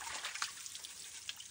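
Water from a broken farm water line that has been cut trickles and dribbles out as it drains. The sound is a soft, close, steady flow lasting a moment, with a few small splashes.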